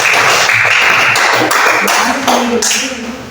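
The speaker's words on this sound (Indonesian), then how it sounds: "Semua tepuk tangan dulu buat Claudia" A group of people claps together for Claudia in a classroom, a brisk burst of applause that fills the room and fades toward the end.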